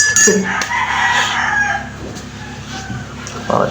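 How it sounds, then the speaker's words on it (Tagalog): Roosters crow loudly nearby, one long drawn-out call followed by more crowing and clucking from other birds in the background. "Laok ng mga manok."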